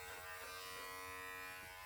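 Electric pet clippers fitted with a 15 millimeter guard comb buzz steadily and continuously while trimming the front leg and chest of a Schnauzer, close and loud with no talking.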